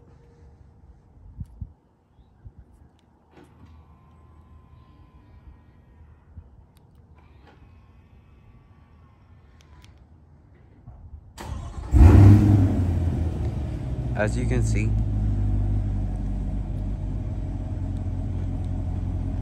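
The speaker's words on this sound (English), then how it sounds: "Go ahead and show you guys the remote start." After a quiet stretch with a few faint clicks, a 2022 Chevrolet Corvette Stingray is remote started. The engine fires with a loud, close roar, then settles into a steady, deep idle, with a brief voice early on.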